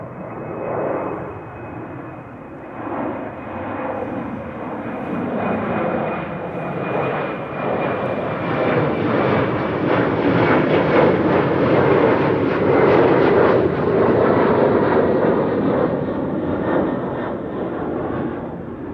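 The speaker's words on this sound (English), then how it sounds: "Embraer 190 to London City." An Embraer 190 jet at Amsterdam Schiphol Airport gives a steady, moderately loud engine roar that builds gradually and holds, with a thin high whine running through it.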